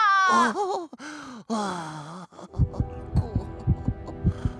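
Heartbeat sound effect in a children's show checkup scene, steady thumping beats entering after a sung, wavering voice, loud and rhythmic with a low hum beneath.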